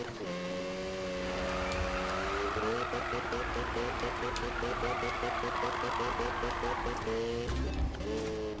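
Need for Speed game car drifting through a drift corner, engine roaring steadily with rising and falling pitch and tire skid noise throughout, loud and close; a voice is mixed in.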